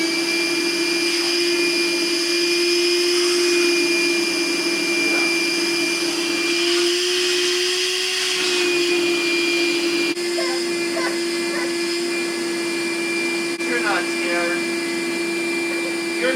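Cordless vacuum cleaner, a Dewalt or a Dyson, running steadily and loudly close by with a constant whine, while a voice and faint talk come through underneath.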